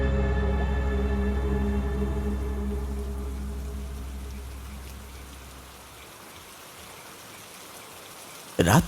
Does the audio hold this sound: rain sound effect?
yes